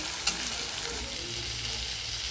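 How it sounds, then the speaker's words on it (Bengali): Onion paste fries in a pan with a steady, soft sizzle and a faint stirring scrape, continuous and fairly quiet with no talking. "পেঁয়াজ বাটাটা ভালো করে ভেজে নিতে হবে।"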